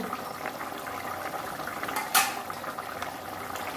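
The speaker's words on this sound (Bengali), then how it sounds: "ঢাকা দিয়ে একবার ফুটিয়ে নেব" A pot of Bengali fish curry with katla fish, potato and drumsticks boils under a lid, a continuous soft bubbling simmer broken by one brief sharp clatter midway, with no voices.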